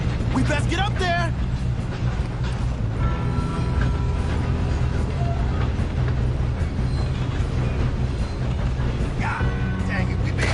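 A train rolling along rails in the Red Dead Redemption video game, a loud continuous rumble and rattle of wagons heard throughout, with people shouting over it.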